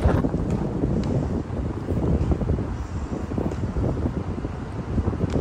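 Strong wind in New York City buffets the microphone in a constant roaring rush, with gusts rising and falling and no voices present.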